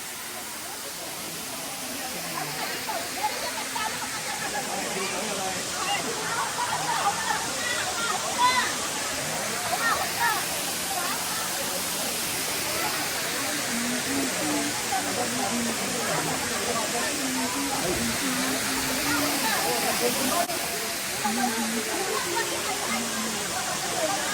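A waterfall on a mountain stream at Wong Lung Hang pours in a constant rushing hiss that fills the whole stretch, while people nearby talk and call faintly over the water.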